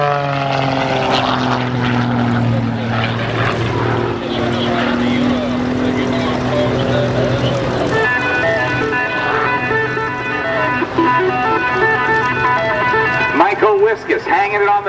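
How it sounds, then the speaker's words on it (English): A Lucas Oil Pitts aerobatic biplane's engine drones and shifts pitch continuously as it spins toward the ground at an air show in Peoria, Illinois. The propeller roar stays loud and close throughout, with a commentator talking over it. "He's going to let the airplane turn, and now let the nose fall through the horizon, spinning the airplane."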